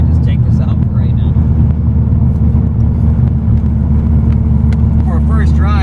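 Gen 5 car fitted with a new cam, on its first drive below 2,000 RPM: a steady, loud low engine rumble and drone runs throughout, with people talking over it.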